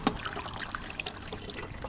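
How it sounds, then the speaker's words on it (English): Distilled water pours into the drained degas reservoir tank of a Toyota Century, a steady close trickle and splash running for about two seconds with no talking. "let's go ahead and put some distilled water in there."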